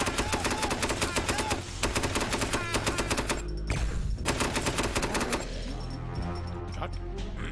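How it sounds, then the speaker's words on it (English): Rapid magic missiles fire in a video game, a dense run of sharp repeated bursts over about seven seconds, loud and steady with a short break partway through, with no talking. "Celebratory magic missiles in the air."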